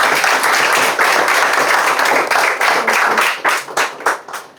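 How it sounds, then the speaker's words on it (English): An audience applauds an exam topper at an interview event, a full round of clapping that thins out near the end into a few scattered, separate claps. "a big round of applause for her"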